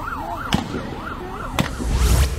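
Sirens wail in rising and falling cycles during a shooting at a supermarket in Fordyce, Arkansas, with two sharp, loud gunshot cracks cutting through and a rumbling burst at the end.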